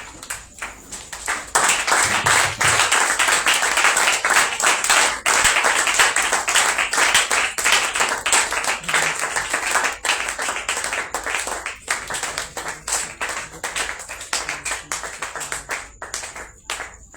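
A church congregation at a prophetic Purim conference claps to welcome the pastor. Loud, dense, lengthy applause with a slightly rhythmic edge that gradually thins toward the end.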